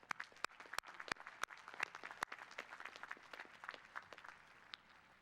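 Audience applause at a Cal State Fullerton commencement ceremony, a steady wash of clapping from a large crowd with sharp individual claps standing out near the front, gradually thinning toward the end.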